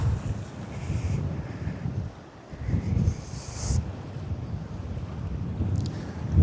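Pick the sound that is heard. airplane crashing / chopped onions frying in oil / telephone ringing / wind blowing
wind blowing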